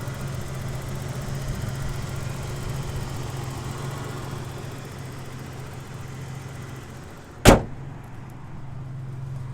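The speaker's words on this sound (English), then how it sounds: "Engine compartment's really nice. Engine sounds nice and smooth." A 1988 Ford Ranger 4x4 pickup engine idles with a steady low rumble, interrupted near the end by a single sharp metallic clunk.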